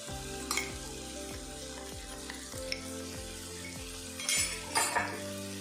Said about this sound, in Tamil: அப்புறம் பெருங்காயத்தூள், அதையும் தேவையான அளவு ஆட் பண்ணி நல்லா மிக்ஸ் பண்ணி விட்டுருங்க